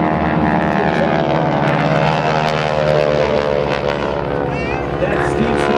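GEICO Skytypers solo propeller planes roar past at a 2009 military airshow, the engines loud and sustained with a steady droning buzz, as an announcer talks over them throughout.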